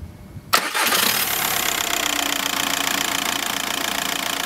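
A VW 2.0 TDI diesel car engine cranks and catches after a quiet moment, then settles into a loud, steady close-up idle with diesel clatter.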